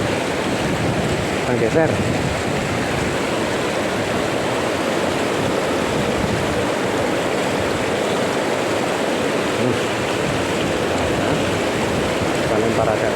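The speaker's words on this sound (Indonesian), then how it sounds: "Sangat berangin." Strong wind and rushing water from a rapids fishing spot for tilapia fill the air with a constant loud roar, broad and unbroken. A brief spoken remark is heard over it.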